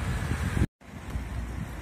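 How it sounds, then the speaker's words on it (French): Outdoor wind buffeting the microphone of a Redmi Note 7 phone, a continuous rumbling gusty roar broken by a brief dropout. "Ouais, alors, il y a du vent"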